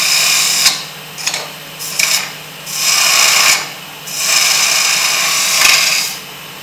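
A wood-turning gouge cuts a small wooden toy figure on a lathe, producing loud, close rasping scrapes in repeated sustained passes separated by short breaks, over the spinning lathe's hum.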